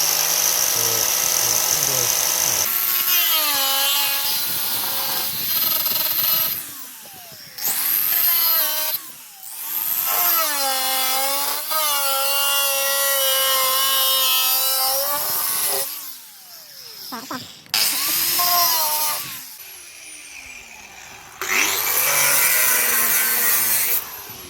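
A power cutter slices through the rear sill metal of a Porsche 924 during rust repair, a loud whining grind with rising and falling pitch that runs in long passes broken by short pauses.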